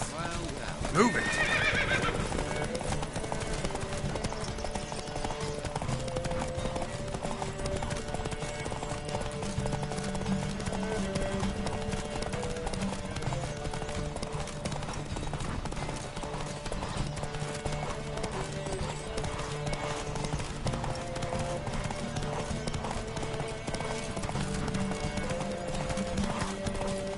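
In The Witcher 3, a horse whinnies loudly at the start, then its hooves clip-clop in a fast, steady galloping rhythm over a backdrop of game music, with voices speaking intermittently.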